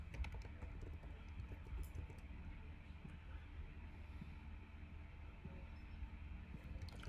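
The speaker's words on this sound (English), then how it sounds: "So I'm typing," Quiet, rapid clicking of keys on a computer keyboard runs in irregular bursts beneath a low background hum, faint and close.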